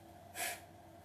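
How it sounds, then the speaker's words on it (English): A single deep inhalation during a guided breathing exercise, a soft breathy rush rising and fading over about a quarter second, close and fairly quiet over a faint steady background hum. "so inhale"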